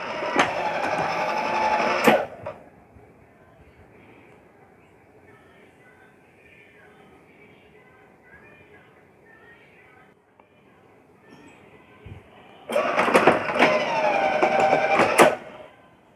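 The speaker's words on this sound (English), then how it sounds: "So this is the clamp type locking actuated" A clamp type railway point machine with a thick web switch actuates its lock, giving a loud mechanical motor whir for a couple of seconds, a long quiet pause, then a second whirring burst.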